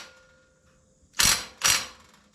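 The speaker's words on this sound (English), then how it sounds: "I'll run it up with the impact." An impact wrench runs a bearing fastener up on a Kuhn GMD 240 mower, giving two short, loud bursts about half a second apart against a quiet background.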